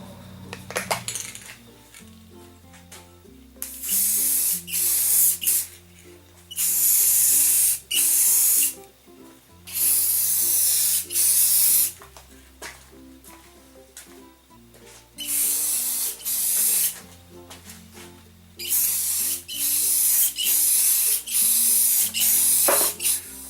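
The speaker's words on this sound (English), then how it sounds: "Now I want to spray a coat of clear gloss over it." Clear gloss is sprayed from a can onto a CNC-cut wooden sign in a series of loud hissing bursts, each a few seconds long, separated by short pauses over a low musical background.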